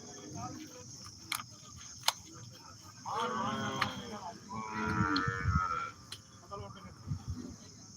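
Cattle at the Kannapuram cattle market give two long, drawn-out moos in close succession, with murmuring voices and scattered clicks from the busy market around them.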